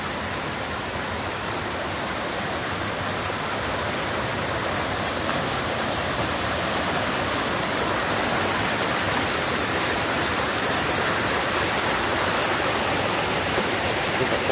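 Water from the Erie Canal's Forestport Feeder cascading into the Lansing Kill gorge near Boonville, a loud, continuous, even roar of falling and rushing water that holds steady the whole time with no other sounds.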